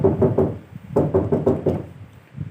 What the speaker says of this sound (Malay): Kemudian bunyi ketukan kedengaran sekali lagi.